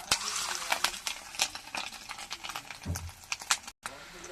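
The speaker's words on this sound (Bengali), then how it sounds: "এবার আমি তেলের মধ্যে এক এক করে একটু ভেজে নেব" Fish roe fritters dropped one by one into hot oil in a home kitchen, crackling sizzle with sharp pops and clinks of utensils, close by, with a voice talking over it.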